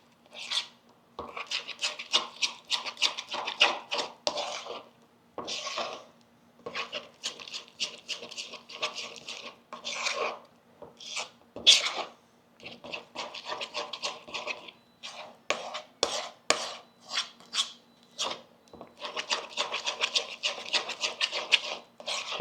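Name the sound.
smushing garlic by mixing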